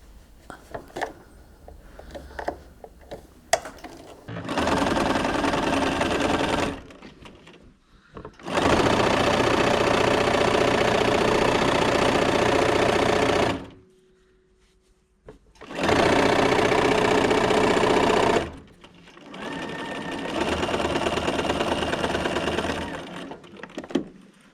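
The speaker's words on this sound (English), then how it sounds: "I'm just going to sew down each side of this using approximately 1/4 inch" A sewing machine stitches a side seam of a charm-square tote bag in three loud bursts of rapid, even whirring, separated by pauses, with faint handling noises before the first run.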